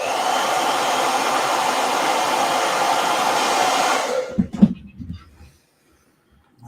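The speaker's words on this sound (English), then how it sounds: "All right, I'm going to hit this with a blow dryer." A blow dryer roars steadily and close up while drying splattered paint, then cuts off after about four seconds, followed by a few faint knocks and silence.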